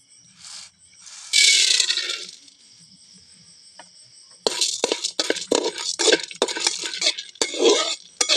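Chana dal frying and being stirred in hot oil in a pan: a brief sizzle first, then a busy run of close scraping and clinking stir strokes against the pan.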